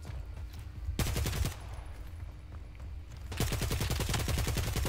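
Gunfire in the shooter game Caliber, heard as a short rapid automatic burst, a pause with quieter background, then a longer, louder fast burst of shots close up.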